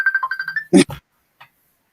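A mobile phone ringtone signals an incoming call: a short rising melodic tone pattern repeats rapidly, then stops abruptly after a couple of seconds, followed by a brief rustle and a faint click.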